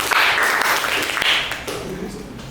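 A class of schoolchildren claps for their teacher, a brief burst of scattered applause that dips and fades toward the end while a voice talks over it.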